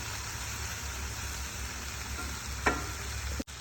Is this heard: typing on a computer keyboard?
no